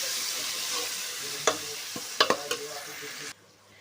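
Tomatoes fry with golden onion and ginger-garlic paste in a pan for kofta curry, softly sizzling while a spoon stirs and scrapes with a few quick clinks before the sound drops away.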